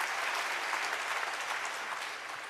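Sustained audience applause at a conference talk, dense, steady clapping that fades slightly toward the end, with no voices over it.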